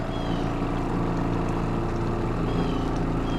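A washing machine runs its spin cycle at an off-grid homestead, set to spin for up to six minutes. It gives a loud, steady, close motor hum and rumble with no breaks and no talking.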